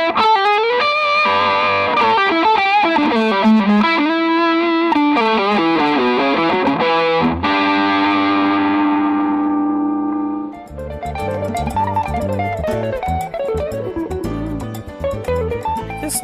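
An electric guitar for blues, fusion and rock, played through effects with a warm, singing, sustained tone, runs through melodic phrases and held notes, then shifts to a sparser, choppier passage.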